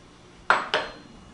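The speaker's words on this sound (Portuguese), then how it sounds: "Tira a panela daqui do fogão." A metal pan is lifted off a stovetop after grilling romaine lettuce, giving two quick bright clanks a quarter second apart, close and clear over a quiet kitchen background.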